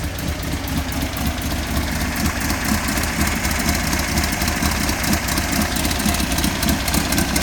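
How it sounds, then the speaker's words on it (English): A Manx turbo buggy engine idles steadily at close range, a continuous low rumble with a slight knocking pulse and no talking over it. "So go ahead and show you the motor here."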